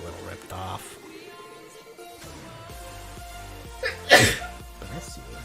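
A single sharp sneeze bursts out near the mic, loud and close, rising above a quiet indoor background with low hum and faint talk just before it.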